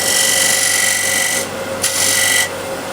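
A narrow skew chisel cutting a flat spot on spinning wood on a lathe, loud continuous close rasping shear that briefly drops off twice as the tool lifts.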